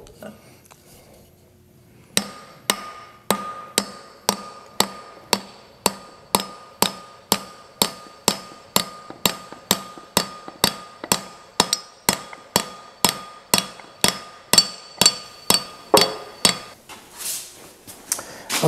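A steel wedge is driven into the end of a wooden hammer handle propped against a mandrel, giving about thirty sharp metallic strikes in a fast, steady rhythm after a quiet start, close and loud with no talking.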